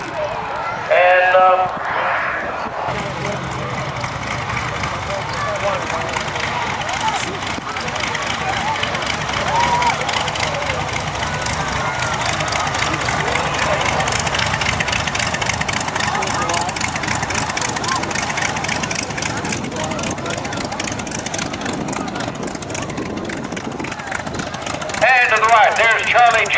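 A small jet engine on an aerobatic airplane taking off at the 2008 Temple airshow gives a loud, steady, broadband roar that holds for nearly the whole stretch, with faint voices in the background.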